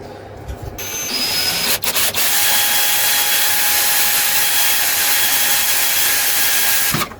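A power drill whines loudly and steadily as it bores through tough plastic, with a couple of brief stutters early on before running continuously and stopping.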